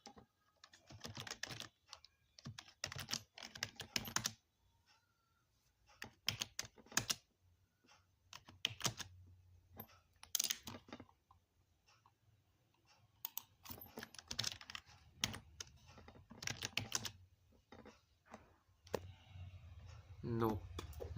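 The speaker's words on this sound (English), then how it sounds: "Like the keyboard noise coming from the mic?" Computer keyboard typing picked up by a microphone during a live coding session, with bursts of clattering keystrokes in irregular rhythm, fairly close, alternating with pauses and occasional speech.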